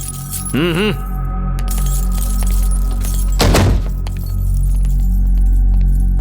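Police station keys jangle in a brief metallic rattle as they are handed over, set against a steady droning background.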